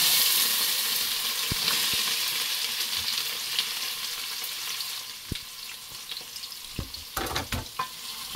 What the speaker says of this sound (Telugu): అంతా వేడైన తర్వాత నేను కట్ చేసి పెట్టుకున్న ఆనియన్స్ ఇందులో వేస్తున్నానండి.